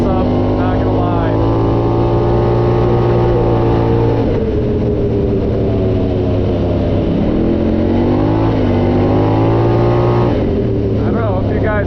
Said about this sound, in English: That RPM exhaust sounds awesome.